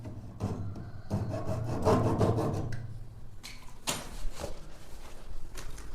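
A rubber gasket for a toilet tank is cut to size, giving close scraping and rasping strokes in irregular bursts, with a short pause in the middle and a few sharper scrapes near the end.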